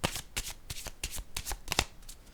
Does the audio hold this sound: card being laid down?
yes